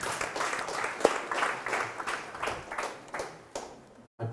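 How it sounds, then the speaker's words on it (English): Conference audience applause at a Blackmagic Design expo in Kenya, a crowd clapping steadily in a hall for about four seconds, then cutting off abruptly into near silence before a brief resumption. "Another round of applause."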